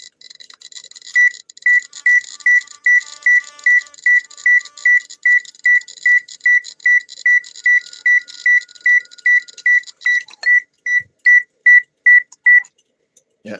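A GQ Geiger counter's radiation alarm beeps in a steady, rapid series of short, loud, identical tones, about two per second, running for over ten seconds before stopping, with faint electronic hiss behind it.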